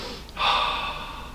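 One deep breath taken during a qigong breathing exercise: a short sharp intake, then a long steady airy rush, close and fairly loud, with no voice.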